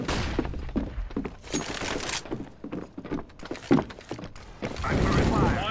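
Decoy grenade in the Counter-Strike video game, giving off a scattered series of sharp gunfire-like bursts and thuds at irregular intervals, moderately loud, mixed with other game noise.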